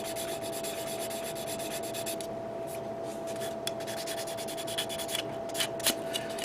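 A 400 grit God Hands sanding stick rubs steadily across a Gundam model kit part, close and dry, in short repeated strokes with small scraping bursts near the end and no voices.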